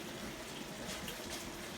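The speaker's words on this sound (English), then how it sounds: "I'm gonna add some more water" Water pours steadily into a pot of curry chicken with a soft, even rushing splash, quiet and close, with no voices.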